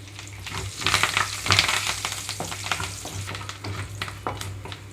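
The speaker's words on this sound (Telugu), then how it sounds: "ఈ ఆయిల్లోనే తాలింపు గింజలు అలాగే ఎండుమిరపకాయలు వేసి వేయించుకుంటున్నాను" Tempering seeds and dried red chillies crackling and sizzling in hot oil, with sharp pops and spatters over a steady fry, plus a low hum underneath.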